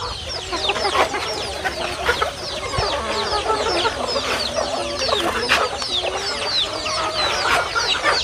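Native country chickens of mixed ages, from chicks to grown birds, kept on a small farm: many overlapping clucks and short calls, close and continuous, with a faint crow or two among them and no talking.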